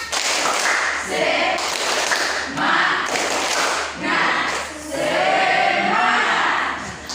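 A classroom group does an Indonesian spirit clap with hand motions, several quick rounds of hand claps separated by brief pauses, loud and close, with some voices joining in.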